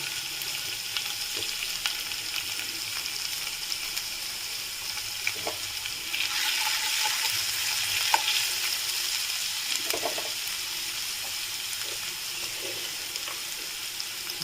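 Ginger frying in a pan for chilli paneer: steady soft sizzle with occasional scraping stirs and clicks, moderately close and fairly quiet, with no talking.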